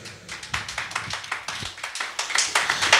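A church congregation claps and applauds in praise during an evangelical sermon, a dense, steady patter of many hands rising in strength toward the end.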